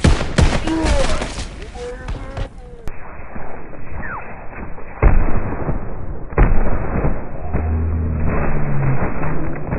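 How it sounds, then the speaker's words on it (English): Bomb explosions and gunfire in the Call of Duty WWII video game, with repeated heavy booms and blasts over a dense rumbling battle mix, loud and continuous. "Enemy bomb incoming."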